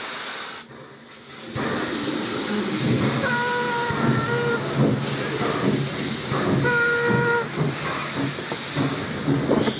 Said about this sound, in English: F-13 showcases a spectacular display of total steam.